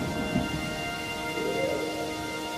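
Heavy rain pours steadily with a low rumble of thunder beneath it, a dense continuous wash with no voices.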